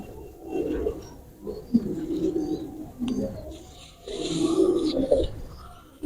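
Pigeons coo in soft, low rolling phrases, including a lal pari female, with several overlapping calls near and steady across the stretch and faint background bird chirps.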